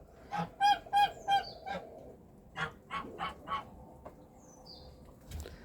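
Geese honk in a quick run of loud, close calls, then scattered honks follow more sparsely near a turkey-breeding yard; a low background murmur continues throughout.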